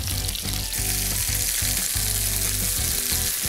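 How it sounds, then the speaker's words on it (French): Ballotines and porcini mushrooms fry in a pan with olive oil and butter, a loud continuous sizzle with crackling spatter and a few soft pulses of stirring, close up and without voices. "on va les caraméliser, les rôtir juste un petit peu dans une poêle avec de l'huile d'olive et du beurre"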